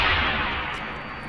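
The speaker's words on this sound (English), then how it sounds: "A frag grenade does the job nicely." Frag grenade explosion destroying a hallway turret in Deus Ex: Human Revolution Director's Cut: a loud, close broadband blast decaying into a sustained roaring rumble, with no speech.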